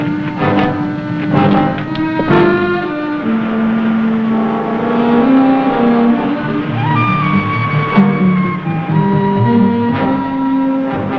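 Engine of a car in an old crime drama, droning steadily with rising and falling revs as it drives, loud and close for the whole stretch, with no talk.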